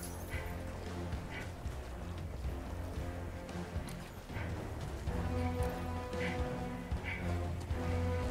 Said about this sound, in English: that's definitely a storm.